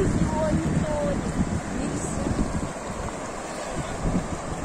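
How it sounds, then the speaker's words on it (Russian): Shallow rapids on the Syr Darya river rush steadily nearby, a loud continuous wash mixed with heavy wind buffeting the microphone, while a person talks over it. "Такие перекаты у нас на Сырдарье."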